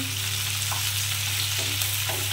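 Chopped tomatoes sizzle loudly in hot oil as they are stirred into a potato and pointed gourd curry with shrimp, a dense, constant frying hiss with a low steady hum beneath it.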